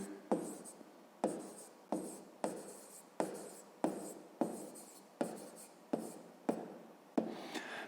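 A pen scratching across paper during a fifth-grade maths exercise, heard close and soft as a regular series of short writing strokes, each starting with a light tap and fading out, repeated about ten times.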